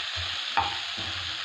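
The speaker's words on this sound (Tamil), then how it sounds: "நல்லா வதங்கணும்." Onion and coriander sautéing in a pan give a steady close sizzle with a single louder stir scrape partway through, no voices.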